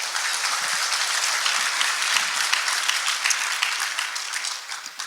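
Steady, dense applause from a large audience, many hands clapping continuously at full volume before tapering slightly at the end.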